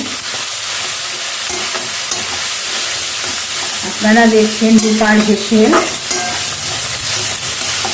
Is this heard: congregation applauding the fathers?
no